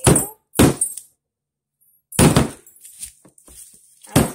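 A meat tenderizer mallet strikes a hard block of sweet used for a pineapple syrup filling, giving several sharp, loud thuds with a pause between them and lighter knocks after.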